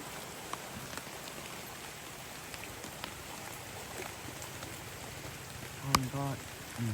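Heavy rain patters steadily beside a stream, a dense hiss of drops on a surface, with a brief voice breaking in near the end.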